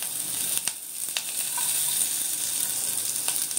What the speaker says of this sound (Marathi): आता फोडणी करत आहे।